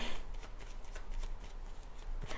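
Tarot cards are shuffled close up in a continuous stream of rapid papery riffling and soft slaps, fairly loud and unbroken for the whole moment, with no voice over it.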